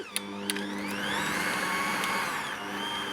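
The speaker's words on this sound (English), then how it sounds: "So once that's beaten together, then that's all we need to do on the mixer." An electric stand mixer whirs steadily as it beats blocks of softened cream cheese. A few clicks at the start lead into a rising motor hum that holds as a continuous, fairly loud drone.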